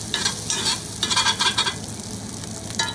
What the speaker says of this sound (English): we'll go ahead and stir this up